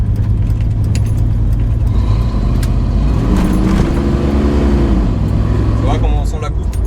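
An American 5.7-litre V8 engine pulls hard from inside the car, its deep rumble rising in pitch and then dropping as a gear change cuts through, with people talking over the steady engine drone.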